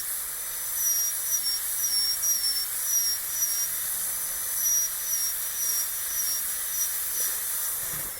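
High-pitched dental drill whine from a burr preparing a tooth for a porcelain-fused-to-metal crown on an upper central incisor and canine, a steady thin whistle with brief pulses over soft hiss, fairly close.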